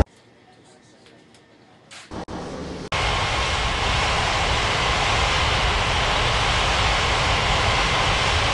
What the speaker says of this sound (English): Ilaska 38905 cleared for takeoff runway 35.